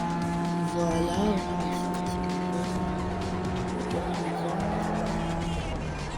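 A car power-slides through a drift in the racing game Need for Speed Underground 2, its engine droning with steady tonal whine and a skidding tire hiss running continuously at close range.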